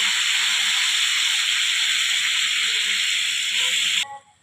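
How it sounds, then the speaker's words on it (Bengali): Water poured into spice paste frying in a pan for a fish curry of singhi fish, producing a loud, steady, close hiss and sizzle that runs for about four seconds and then cuts off abruptly. "এবার পরিমাণ মতো জল দেওয়া হলো।"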